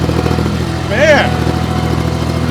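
The engine of a Baumalight 630D sawmill log lift idles with a steady low mechanical drone, and a brief rising and falling whine briefly sounds over it, close and loud.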